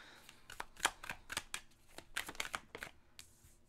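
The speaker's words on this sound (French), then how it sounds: "On va chercher trois autres cartes pour bien décrire votre situation" Tarot cards are drawn and handled from a deck, a quiet series of close, crisp slaps and slides of card against card in an uneven rhythm, with no talk.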